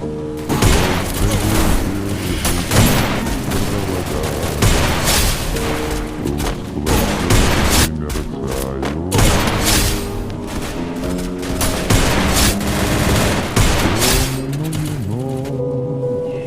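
Rapid gunfire bursts in the mobile shooter Free Fire, loud repeated shots and booms mixed with game music and effects, continuous and dense throughout.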